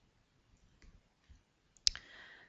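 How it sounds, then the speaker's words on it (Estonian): A single sharp computer mouse click sounds near the end, close and distinct, after a few faint soft taps in an otherwise quiet room. "Ja klõpsan nupule lae üles."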